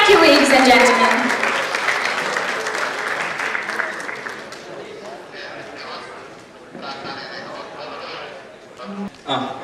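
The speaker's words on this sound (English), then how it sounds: "Please welcome him with huge, big rounds of applause" Applause welcomes a speaker on stage at a teen awards event, loud at first and then fading, with a voice speaking over the last part as the clapping dies down.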